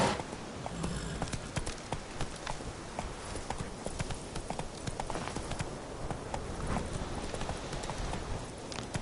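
Hooves of Roach, a horse in The Witcher 3, pound in a steady galloping clip-clop, close and continuous under a dense wash of movement noise, with no voices heard.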